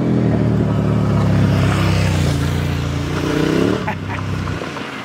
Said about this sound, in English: I personally love the proper sound of a V2 with a good, powerful, big engine.